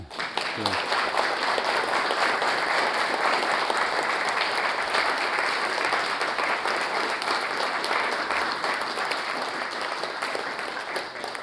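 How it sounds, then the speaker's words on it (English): Sustained audience applause after a talk on degrowth and climate change, a thick, even roar of many hands clapping that continues for over ten seconds, slowly easing toward the end. "And before that, applause"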